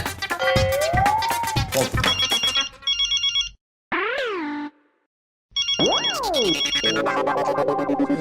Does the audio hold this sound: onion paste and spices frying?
no